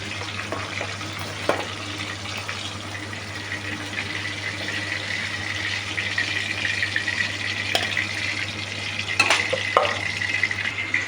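Fish frying in a pan on a busy kitchen stove where rice, greens and lentils also cook, giving a steady close sizzle with a few sharp clinks and scrapes, no voices.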